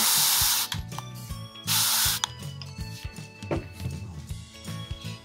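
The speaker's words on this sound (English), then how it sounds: "now let's spray some water straight down on that" Water sprayed straight down from a spray bottle onto resin jewelry work: two bursts of hissing spray, about a second each, over a steady low rhythmic mechanical hum, followed by scattered light taps and clicks.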